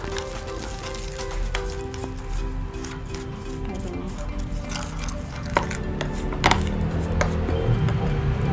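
A spoon stirs a teaspoon of Cetaphil into a face mask mixture in a small container, making sparse light clinks and scrapes over a steady background hum.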